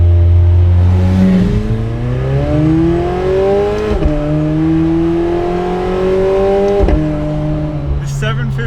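A McLaren 750S sports car climbs a mountain pass, its engine loud and close, pitch rising steadily through each gear before dropping sharply at shifts, with a voice talking over it.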